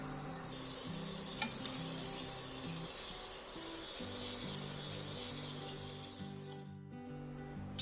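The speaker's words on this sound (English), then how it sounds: "It's important to keep swirling these, otherwise the gulab jamun gets hot spots or burnt spots." Gulab jamun dumplings sizzle steadily in hot oil while being swirled, a close, continuous frying hiss with soft stirring movement; no talking, and the hiss thins out near the end.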